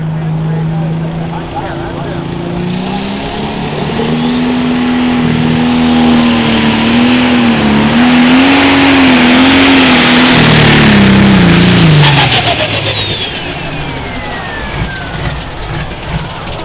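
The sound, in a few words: pro stock pulling tractor engine revving with turbocharger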